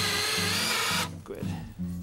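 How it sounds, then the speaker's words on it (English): A power drill bores holes straight through wood in a workshop, its loud steady whine running for about a second, then cutting out as the motor stops and briefly restarts in short bursts. "just drill holes all the way through"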